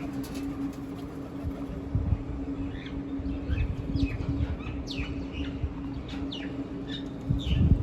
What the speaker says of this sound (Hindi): देखें कितना खूबसूरत बोल रही है ये मैना